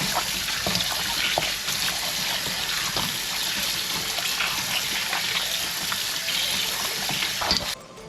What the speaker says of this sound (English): First we're going to start off by washing our pigtail and beef with some cold water